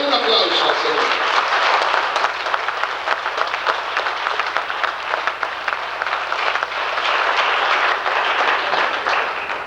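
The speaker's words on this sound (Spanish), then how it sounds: "Denle un aplauso al Señor." A church congregation applauding together, a sustained wash of many hands clapping at full strength for nearly ten seconds, with voices mixed in beneath it.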